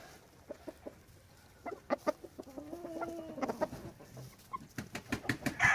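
A young gamefowl rooster clucks in short, repeated calls, some drawn into a brief warble, amid scattered soft clucks from other birds nearby, fairly close and quiet.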